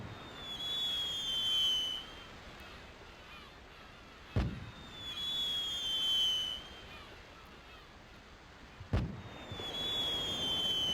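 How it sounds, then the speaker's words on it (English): Fireworks at a festival in the farming game Harvest Moon: Magical Melody, with two bursts each followed by a rising whistle, repeating about every four and a half seconds over soft background music. "All right, here's some nice fireworks."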